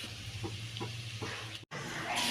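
Onions, green chilli and ginger garlic paste sauté in a pan with a steady, close sizzle and occasional stirring scrapes, briefly cutting out near the end before resuming.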